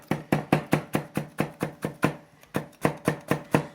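A knife chops a carrot on a cutting board in a Chinese cooking kitchen: a brisk, even run of about sixteen crisp, close knocks with one short gap midway, heard alone.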